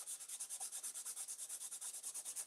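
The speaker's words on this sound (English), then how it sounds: "I'm just going to take a fine, very extra fine sandpaper and lightly sand down this edge." Extra fine sandpaper lightly sands the edge of a stencil in quick, even back-and-forth strokes, a soft, close, rhythmic rasping with no voices.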